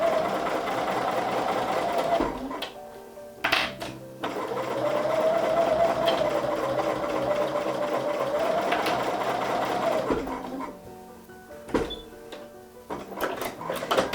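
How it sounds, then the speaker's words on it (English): A sewing machine stitches quilt blocks together in long, steady whirring runs, briefly stopping and starting, with a few sharp clicks and taps in the pauses. "I will put it down and stitch this stitch."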